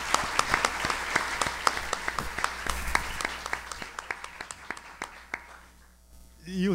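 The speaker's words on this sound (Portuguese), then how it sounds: "uma salva de palmas ao Martinho" Sparse, scattered clapping from a small concert-hall audience, close individual claps in an uneven rhythm, fading out before a brief voice at the end.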